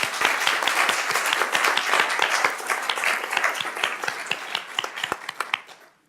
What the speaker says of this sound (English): I just want to give one more round of applause to the master home educators.